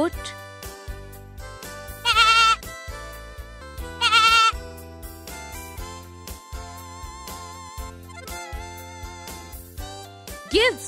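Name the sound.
goat bleating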